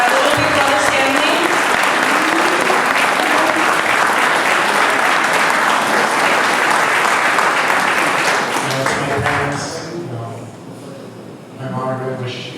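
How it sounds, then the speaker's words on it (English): Wedding guests at Jericho Terrace in New York break into sustained, lively clapping that fades near the end as voices and a speaker come back in. "So please give a round of applause for my mom, my dad, my little big brother's family."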